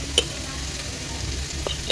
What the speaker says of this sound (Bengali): বাটা মশলা এবং আদা দিয়ে আমি ভালোভাবে একটু ভেজে নিব তেলের মধ্যে